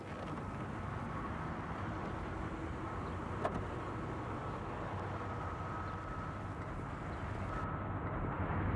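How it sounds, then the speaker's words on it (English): A car engine idles steadily at low volume during a police traffic stop where drug dealers gather, a continuous broadband rumble with a faint click partway through. "Shut the car off, sir."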